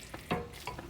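A spoon stirs shredded cheese into a pan of homemade hamburger helper, giving a few soft scraping, sticky strokes over a faint sizzle, close and fairly quiet.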